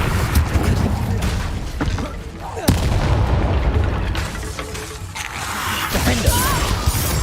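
A fire spell is cast in the Hogwarts Legacy video game, giving loud bursting, whooshing blasts amid continuous battle rumble and crashes, with a voice calling out spells over the combat.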